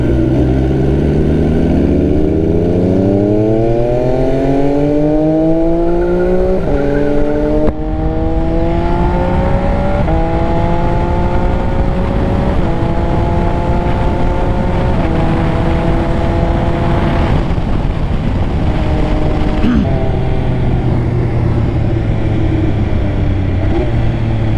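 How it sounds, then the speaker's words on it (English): An 800cc inline three-cylinder MV Agusta motorcycle with an SC Project exhaust rides up through the gears, its loud, close engine note rising steadily in pitch, dropping at each shift, then climbing again. "enjoy the ride and the sweet sounds of the SC Project exhaust system screaming from the 800cc inline 3-cylinder from Italy"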